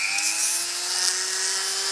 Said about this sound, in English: You want to use a large, thick sanding wheel of some sort, such that it will go all around the edge.